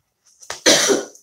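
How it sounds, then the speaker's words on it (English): A single close, harsh cough in one burst, preceded by a short throaty catch, with no speech around it. "do not know where this cough came from."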